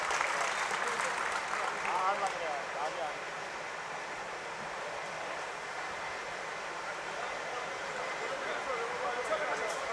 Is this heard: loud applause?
yes